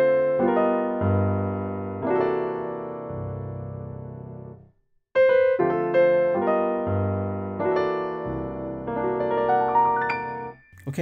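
A 6-2-5-1 chord progression is played as clean sustained chords, in two phrases of about five seconds each with a brief silence between them, with no talking.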